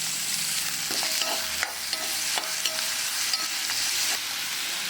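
Sliced onions with garlic paste frying in a pan for spicy chicken fry, a steady close sizzle with occasional clicks and scrapes of a spoon stirring, no voices.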